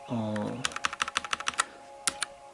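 A mechanical keyboard with changeable backlighting clatters as a quick run of about a dozen crisp key clicks, then two more strokes after a pause. A voice speaks briefly at the start.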